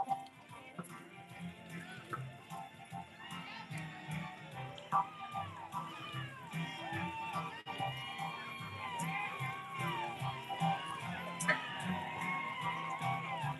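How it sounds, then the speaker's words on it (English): Distant crowd cheering, hooting and hollering at a live horse charity event with organ music, a steady far-off roar with rising shouts, heard under nearby talking. "there's people over there just cheering away"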